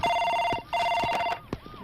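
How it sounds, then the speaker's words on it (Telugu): A telephone rings in a film scene with two bursts of a bright electronic ring separated by a short gap, close and clear, followed by a faint tap. "సార్, మీకు ఫోన్."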